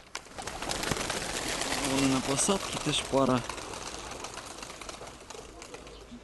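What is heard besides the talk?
pigeons cooing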